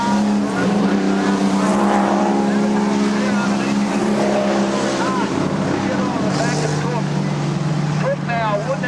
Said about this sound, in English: Stolzenberg now really has got that Cortina starting to hook up nicely